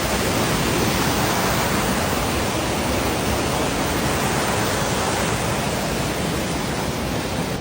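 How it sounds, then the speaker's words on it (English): A creek running high after rain, water rushing over rocks in a continuous loud, broadband roar that stays steady and close throughout, with no voices. "I've never seen this creek flow like this"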